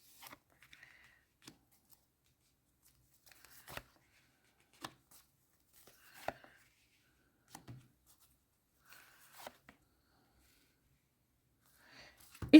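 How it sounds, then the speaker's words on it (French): Tarot deck shuffled by hand in a quiet room, a string of soft, scattered card flicks and riffles with pauses between them, faint and close, with no one talking. "Je mélange un petit peu le jeu"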